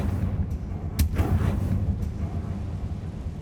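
A Confringo blasting spell explodes in Hogwarts Legacy: a sharp booming crack followed by a rumbling tail, with a fainter pop shortly before and a weaker one after, over steady low background rumble.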